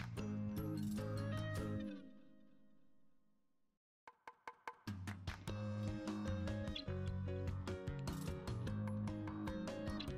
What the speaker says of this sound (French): Munissez-vous de la clé de 13 pour démonter les 6 écrous du corps de chauffe.